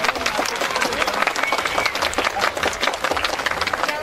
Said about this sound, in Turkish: Şöyle alkışı biraz daha yüksek alalım mı?